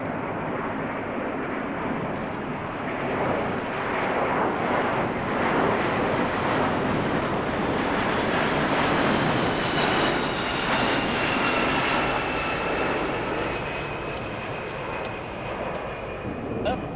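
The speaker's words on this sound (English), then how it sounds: "Special Forces troops can now be inserted by C-17" C-17 military transport aircraft flying at a military airshow at Edwards, a loud, broad, continuous jet engine roar that swells and fades slightly as it passes, with a narrator speaking over it.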